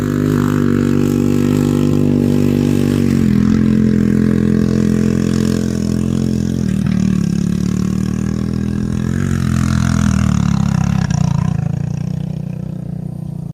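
A 1986 Honda ATV engine driving up a hill climb in a neighborhood under construction: a loud, continuous mid-pitched engine drone with rising and falling revs throughout, close to the microphone.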